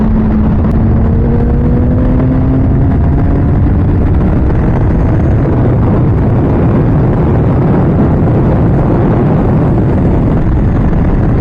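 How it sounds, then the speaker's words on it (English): A motorcycle fitted with a Translogic QSXI quick shifter and a Domino XM2 quick action throttle roars loudly under heavy wind noise, its engine note climbing in pitch early on before blending into a steady rushing drone. "the quick shift is shifting quickly"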